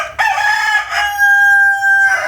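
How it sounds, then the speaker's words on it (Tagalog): A half Silkie rooster crows once, loud and close, with a long drawn-out call. "Yan po ay half silky chicken."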